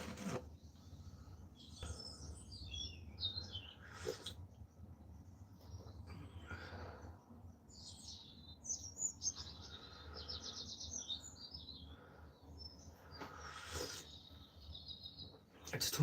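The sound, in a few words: birds chirping outdoors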